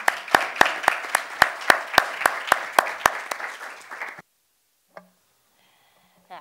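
An audience at a film industry conference gives a short burst of applause, a fast, even run of sharp claps that stops abruptly, followed by near silence with a couple of faint knocks.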